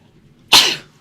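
A single sharp sneeze bursts out close by, then fades quickly into quiet.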